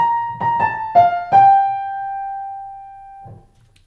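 An orchestral cue from the Jurassic Park film score plays a few soft swelling notes that settle into one long sustained tone fading out, heard alone.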